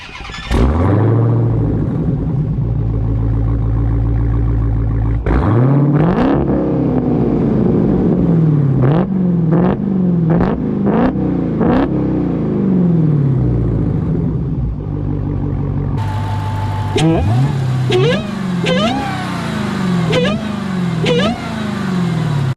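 Supercharged engine of a 2020 Dodge Challenger Hellcat idles with a deep rumble, then revs repeatedly in loud, sharp bursts with supercharger whine, close and continuous throughout.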